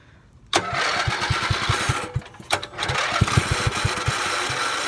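A Manco ATC three-wheeler's small engine cranks and sputters with rhythmic putts, nearly catching twice. It then keeps chugging unevenly close by.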